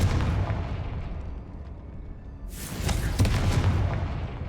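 A Confringo spell explodes in the video game Hogwarts Legacy: a rumbling, booming blast swells after a low roar and rings out loud and close, with no voice.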